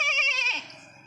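A single short, wavering bleat like a goat's, delivered by a human voice imitating the animal, fading into a low murmur at the end.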